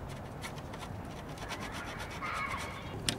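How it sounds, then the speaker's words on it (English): Sandpaper rubbing around a damaged area of a fiberglass surfboard: soft, rhythmic rasping strokes at close range, fairly quiet and steady, with a slightly louder scrape near the end. "you want to sand around the damaged area, just a little bit"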